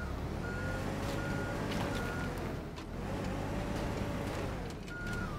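A vehicle in the video game Teardown gives off steady, evenly spaced reversing beeps over a constant engine rumble, moderately loud and without speech.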